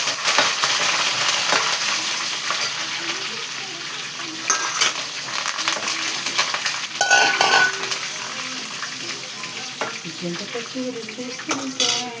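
Brinjal fry with curry leaves, ginger and onions crackles in a hot pan, a continuous close sizzle broken by scraping stirs and occasional clatter of the spatula.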